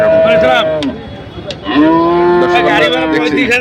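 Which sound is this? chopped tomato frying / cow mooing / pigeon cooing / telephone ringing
cow mooing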